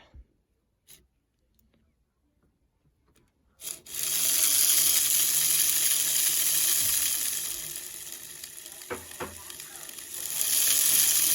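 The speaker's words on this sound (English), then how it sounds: "Let's just test out the variability of this motor." A Bachmann model train pancake chassis, freshly rebuilt, runs its motor and gears as a steady close whirring hum that starts abruptly after a few quiet taps, dips slightly in the middle, then rises again, with no talking.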